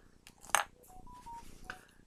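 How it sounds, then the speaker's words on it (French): A smartphone gives a short notification chime, a few brief electronic tones in a quiet room, fairly soft and heard once with no talking over it. "là, c'est mon téléphone que vous entendez. J'ai une notification"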